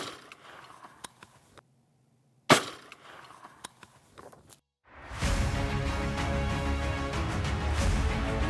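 A Magtech 115-grain OTM 300 Blackout round is fired from an 8-inch AR-15 into ballistic gelatin at an outdoor range: one sharp, loud shot cracks out mid-clip after quiet handling noises, and a dense sustained sound follows later.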